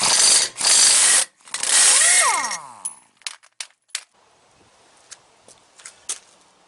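Socket wrench and air tool working on a nut of a truck air bag on a '97 Freightliner FLD: loud sustained power-tool bursts with a spin-down whine, then scattered metallic clanks and clicks, close up.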